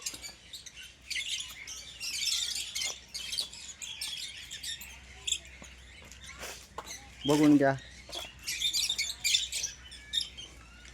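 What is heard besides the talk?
Fischer's lovebird chirping at Tirupati zoo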